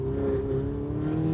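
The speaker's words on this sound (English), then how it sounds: "you can also hear the engine a lot more once you put that window down" Steady low drone of a Ferrari engine heard through an open window from inside the cabin, a constant, even hum with a faint tonal whine and no revving or pauses.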